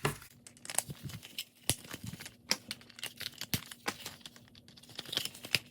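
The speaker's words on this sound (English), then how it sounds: "You just go in, and they click." Small plastic tires for a G.I. Joe Cobra Classified action figure ATV set being pressed onto the vehicle, giving a scattered series of sharp, close clicks and light plastic rattles with no voices.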